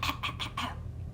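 A person gives several quick coughs in a row, close and fairly loud, as part of a children's story time demonstration of sounds.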